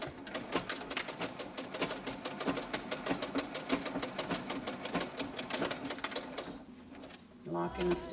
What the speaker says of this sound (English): Put a straight stitch in here to finish closing these off to keep these chambers separate.